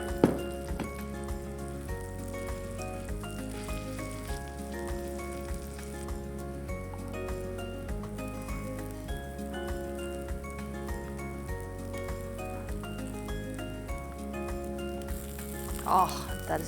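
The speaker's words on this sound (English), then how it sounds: "Now we shallow fry the kebabs." Vegetable kebabs shallow fry in a pan, a soft continuous sizzle and crackle running quietly under steady background music, with a brief louder spatter near the end.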